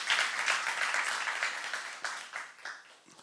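A church congregation at a youth service applauds during a sermon, with steady, dense clapping that fades slightly toward the end.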